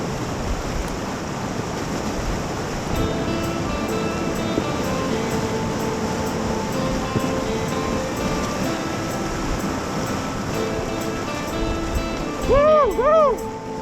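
Rushing water and waves roar steadily around a pontoon boat running Class 3 river rapids in a canyon. Wind buffets the mic, and a short whooping voice breaks in near the end.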